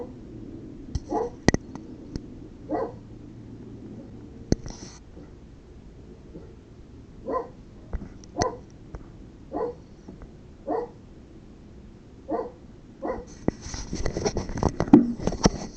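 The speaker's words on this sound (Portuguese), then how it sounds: "Meu cachorro tá latindo aqui" A pet dog barks indoors during an online physics lesson, about a dozen sharp separate barks spaced irregularly, near and moderately loud, growing busier near the end.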